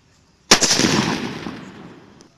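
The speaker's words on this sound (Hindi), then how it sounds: "तो अब हमारे पास ये सदम वाला सुतली बम है" A sutli bomb firecracker: a single sharp blast goes off, then a long crackling, hissing tail of smaller pops fades out over about two seconds.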